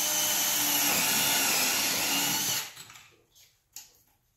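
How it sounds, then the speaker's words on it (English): A power drill bores through OSB sheathing during a wall panel installation, running loud and steady with a high whine for about two and a half seconds before stopping, followed by a few faint knocks. "make sure you drill through the OSB"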